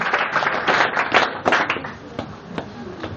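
A church congregation claps to acclaim the Lord, with rhythmic group clapping close up that fades to a few scattered claps, and voices mixed in.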